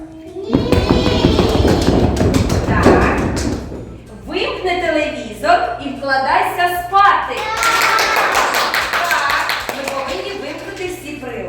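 Children clap and stomp in a burst of broadband thumps and claps for a few seconds during a physical education safety game, followed by children's voices chanting and talking over a steady low hum.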